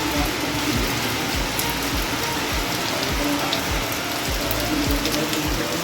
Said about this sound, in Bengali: ব্যাপক জোরে বৃষ্টি হচ্ছে দেখো